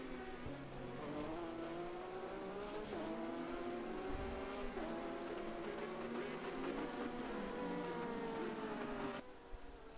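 GT500 race car engines, naturally aspirated, scream at high revs in rFactor 2 at Sepang, rising and falling in pitch as cars pass through corners, loud and continuous, with no talking.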